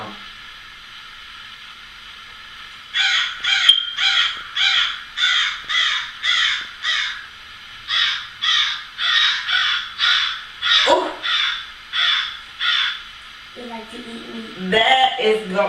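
A person imitates a crow with a long run of rhythmic, harsh caws, about twenty in steady succession at close range, with other voices entering near the end.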